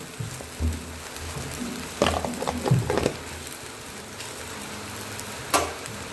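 Fasting-style khichdi with soaked sago, peanuts and potatoes sautéed in a pan makes a soft, low sizzle with occasional scraping stir strokes and clinks, fairly quiet and uneven.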